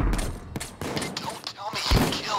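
Gunfire in the Payday video game during a police raid on a building: rapid overlapping shots and bursts, fairly faint and mixed with shouting voices.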